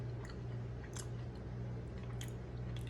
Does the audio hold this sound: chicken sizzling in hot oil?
no